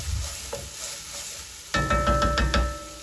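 Four whole garlic cloves sizzling in a hot pan, with a quiet fry at first, then a louder burst of sizzling and stirring partway through, close up and with no talking.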